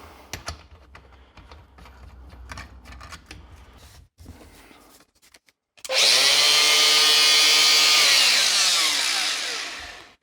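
A Makita angle grinder fitted with new brushes, a new brush carrier and a fresh disc follows some clattering handling. It then spins up to a loud, steady high-pitched whine that winds down toward the end.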